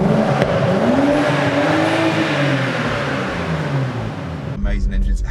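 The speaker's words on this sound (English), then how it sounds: "All right, so we started the engine. It sounds good." A BMW M135i engine idles steadily just after starting, a smooth continuous drone at moderate loudness with someone talking over it, until the sound cuts near the end.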